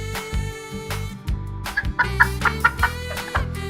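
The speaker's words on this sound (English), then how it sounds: "Chickens are the busybodies of the farm. They're always clucking away" Farm chickens cluck in a series of short, close clucks and squawks with uneven rhythm, set against a light musical backing, with no talking.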